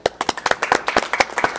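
Applause for women in science fills the Chamber of Deputies in Mexico, a dense burst of clapping from a crowd, loud and steady with no talk over it.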